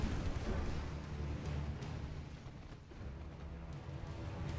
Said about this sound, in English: At least the French 16s are firing again.